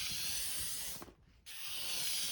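Light sanding of an acrylic stone surface to remove defects, heard as a continuous close hissing rasp that briefly stops for about half a second before resuming, with no talking.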